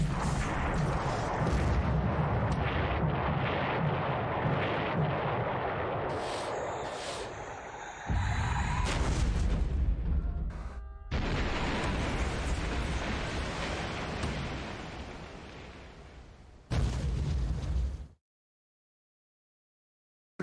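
Torpedoes and shells exploding against a tanker in the War Plan Orange video game, a long rumbling series of loud blasts broken by brief gaps, with no talk over it.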